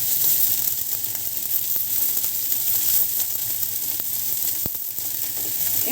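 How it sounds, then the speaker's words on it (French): A hot pan sizzles steadily after crêpe-style baghrir cooking, cold water poured over it to cool it, giving a continuous close, loud hiss with faint clicks and no talk. "À chaque fin de cuisson, on vient rafraîchir la poêle avec de l'eau froide."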